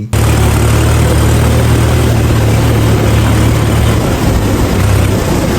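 A New Holland 5510 tractor engine runs close and loud, a steady low diesel drone with constant broadband roar that barely changes over several seconds, no voices.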